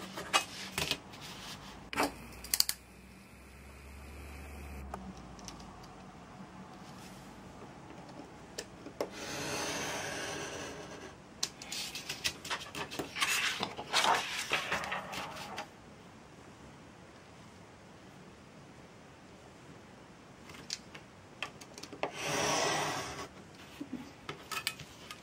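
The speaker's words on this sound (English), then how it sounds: "we're going to cut this out using first a straight edge like we did last time" A blade cuts leather along a straight edge for a handmade leather notebook, giving scattered rubbing and scraping strokes with a few longer drawn cuts and light knocks between quieter pauses.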